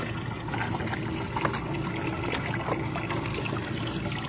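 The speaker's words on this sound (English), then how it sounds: "once that water comes up, it goes through the spigot, down through the trough. And out the exit pipe" Water flows through an oyster upweller, rising through mesh-bottomed buckets and running out a spigot down a trough to an exit pipe, giving a steady, close trickling and splashing stream without voices.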